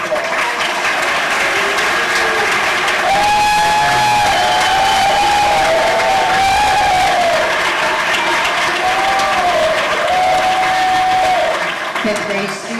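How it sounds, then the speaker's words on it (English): A school moving-up ceremony crowd applauds fifth graders, loud sustained clapping and cheering with whoops and voices mixed throughout. "Let's have all the fifth graders stand and receive a round of applause."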